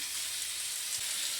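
Karimeen, pearl spot fish, fries in hot oil with a steady, close, bright sizzle and hiss, continuous and unbroken.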